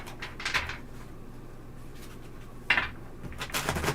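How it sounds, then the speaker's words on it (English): Tarot cards being shuffled give soft, close riffling swishes in short bursts, separated by quiet pauses. "All right, let me shuffle."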